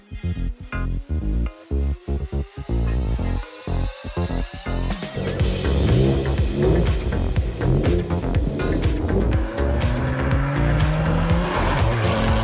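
A remapped all-wheel-drive Toyota GR Yaris driven hard, with loud engine revs rising through gear changes and repeated tire squeals, close and continuous with no talk.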